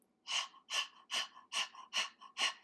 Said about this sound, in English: the way I teach new students about breath of fire is I have them pant through the mouth